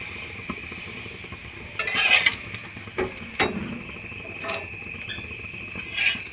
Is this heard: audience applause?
no